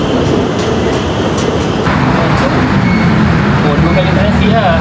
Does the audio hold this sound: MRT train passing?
yes